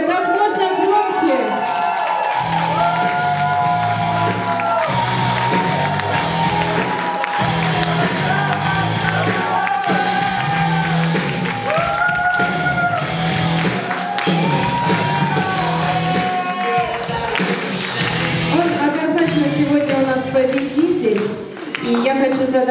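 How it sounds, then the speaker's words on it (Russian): At a wedding ceremony, guests greet the groom with sustained applause, whoops and shouting, a dense and loud crowd sound that carries over music and voices throughout and fades slightly near the end. "Под ваши громкие-громкие аплодисменты мы встречаем нашего жениха"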